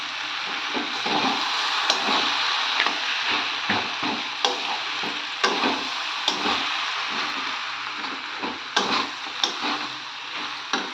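Spices with ginger and garlic fry in a pan for a fish-head and cabbage dish, a dense continuous sizzle punctuated by irregular sharp clicks and scrapes of a spatula stirring, close and fairly loud.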